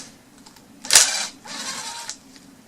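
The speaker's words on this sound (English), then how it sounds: "I'm going to use the screw to drill a hole where I know it needs to be" A screw is driven to bore a hole between two wires at a chicken coop composter, producing a sharp, close burst of grinding followed by a second, softer whirring stretch, then quiet.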